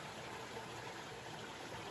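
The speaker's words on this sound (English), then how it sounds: "Now I can hear the water" Faint water flows hidden beneath large rocks on a hiking trail, a soft, continuous rushing trickle with no voices.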